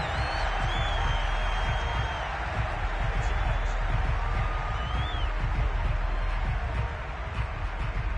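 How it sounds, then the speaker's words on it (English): Virtual stadium crowd in the Madden 22 American football video game, a steady loud roar with scattered shouts and whoops running throughout, no clear breaks or standout cheers. "Plenty of shouts from this crowd as they watch the replay."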